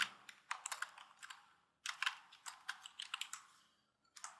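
C++ code being typed on a computer keyboard: quick bursts of close, crisp key clicks separated by short pauses, quiet and alone with no talking.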